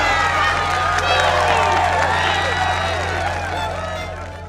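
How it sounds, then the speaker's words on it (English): Crowd applause and cheering, dense and loud throughout, with claps and shouts layered over a steady low hum, fading slightly at the end. "instead of outcry, the crowd starts slowly applauding"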